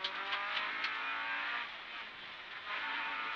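Honda Civic rally car on a closed stage, its engine droning steadily and revving with brief lifts, heard from nearby and alone, with no voices.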